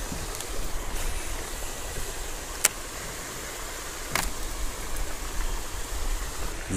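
A waterfall near a lake shore makes a steady, soft rush of falling water, fairly faint and continuous, with a couple of sharp brief knocks.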